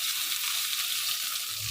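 Onion frying in oil in a pan gives a steady, close sizzle that stays even for the whole moment, with no voices over it.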